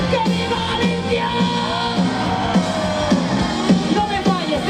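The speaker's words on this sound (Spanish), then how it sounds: "quiero un grito fuerte cuando diga ¡que viva Galicia!" Live orchestra concert crowd in Silleda, Galicia, yelling together over rhythmic band music, loud and close, with repeated shouts rising above the beat.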